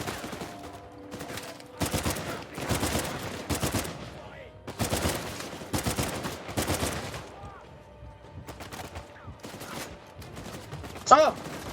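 Repeated bursts of rapid gunfire in the video game Uncharted 4, several loud volleys spaced by short pauses, with a sharp distinct shot near the end.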